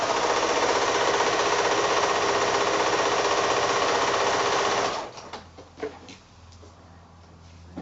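A sewing machine stitches 1 1/2-inch quilt block strips with a quarter-inch seam, running loud and steady at close range for about five seconds before stopping, followed by soft handling noises of fabric.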